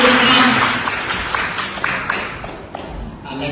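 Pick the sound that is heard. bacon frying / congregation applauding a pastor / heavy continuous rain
congregation applauding a pastor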